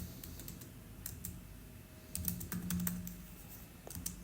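Keys clatter on a computer keyboard in irregular bursts of typing while a database table is set up in SQL Server, close and fairly quiet, with no voices.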